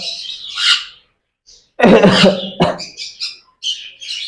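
Pet sun conure, cockatiel and lovebird calls: sharp, close chirps and squawks in short bursts with brief pauses, one louder harsh screech near the middle.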